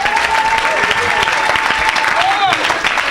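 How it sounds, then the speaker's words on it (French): A congregation claps and cheers in loud, steady applause during a church worship service, with a voice speaking over the crowd. "Acclamez pour Jésus."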